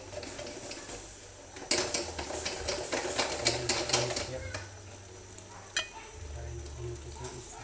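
Coconut milk poured into a pan of simmering tulingan fish, a sudden rush of bubbling sizzle followed by stirring scrapes and pan clinks, with a voice speaking briefly.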